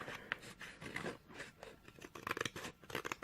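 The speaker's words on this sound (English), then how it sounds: "Once my scissors get to work" Scissors snipping through card while trimming a Christmas socks gift box with an acetate front, a quick run of sharp close crunching cuts in uneven bursts, quiet and alone.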